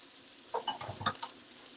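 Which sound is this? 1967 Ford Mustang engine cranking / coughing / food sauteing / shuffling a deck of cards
food sauteing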